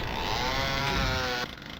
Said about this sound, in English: Press that, we get the chainsaw.